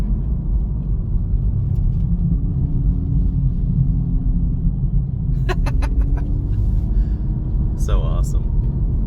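A 2024 Acura Integra Type S accelerates on a wet road in the rain, heard as a steady, loud engine and tire rumble with a slowly rising tone and some brief higher-pitched noises near the end.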